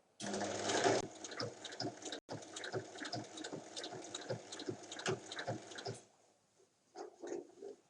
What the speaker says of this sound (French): On commence en faisant un point d'arrêt.